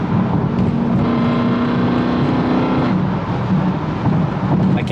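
A BMW M3 with the S65 V8, which has a small oil leak, runs at a steady drone with wind buffeting the microphone and a constant low engine hum throughout.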